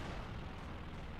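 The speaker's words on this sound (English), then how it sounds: "Aircraft shot down by the ISU." A continuous, deep, rumbling roar of heavy blasts in the Company of Heroes 2 video game as an ISU fires and an aircraft is shot down, loud and dense throughout the short stretch with no voices.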